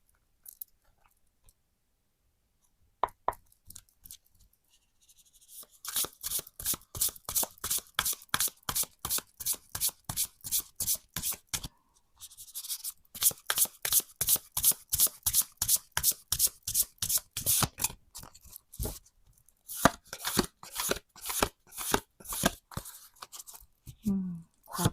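Tarot cards are shuffled close up in long runs of rapid, rhythmic riffling flicks, broken by brief pauses and quieter stretches between bursts.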